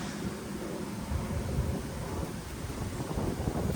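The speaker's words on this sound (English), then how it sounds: "It's windy, but beautiful." Wind gusting outdoors on a high lookout, a steady broadband rumble and buffeting across the microphone throughout, fairly loud and continuous with no talk.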